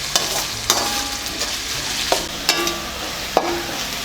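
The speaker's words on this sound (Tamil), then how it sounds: "வெங்காயம் கொஞ்சம் வதங்கட்டும்." Chopped onions sauté in a hot pan for masala idiyappam, giving a steady close sizzle broken by several sharp spatula scrapes and taps against the pan, with no talking.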